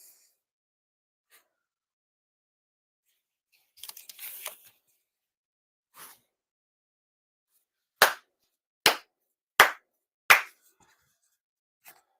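Sharp ritual hand claps at a Shinto New Year prayer ceremony: four crisp, evenly spaced claps ring out in near silence, preceded by a few softer rustles and taps.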